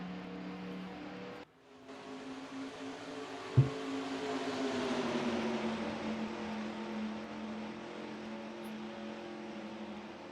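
Stock cars roaring through a green-flag restart at Daytona in NASCAR Racing 2003, a dense, steady engine drone that swells and builds as the pack accelerates, with one brief sharp knock partway through.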